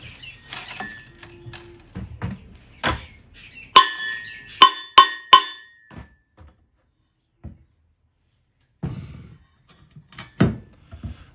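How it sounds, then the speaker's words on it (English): Gold-bearing rocks in Gippsland, Australia, are smashed, giving a series of sharp, close metallic clanks and clinks in uneven bursts, separated by quiet pauses. "That stuff's actually smashed up quite nicely."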